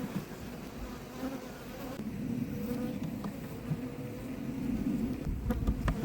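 Honey bees from freshly split hives, with no eggs yet, buzz in a steady, dense drone around the boxes, holding close and continuous from start to finish.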